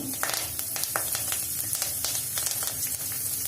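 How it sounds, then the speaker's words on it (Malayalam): Cumin seeds and curry leaves spit and crackle in a tablespoon of hot cooking oil, a soft, steady sizzle with scattered sharp pops, fairly quiet and with no talking. "1 ടേബിൾ സ്പൂൺ കുക്കിംഗ് ഓയിൽ ഒഴിച്ചിട്ട് ചൂടാക്കാൻ വെച്ചിട്ടുണ്ട്. അതിലേക്ക് ഞാനൊരു 1/4 ടീസ്പൂൺ ജീരകവും ഇപ്പം കറിവേപ്പിലയും കൂടി ചേർക്കാം"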